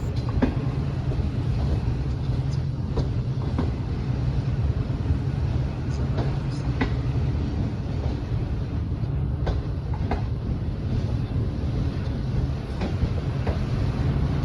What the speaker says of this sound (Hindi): प्लेटफार्म नंबर 1 पर अवाम एक्सप्रेस आई है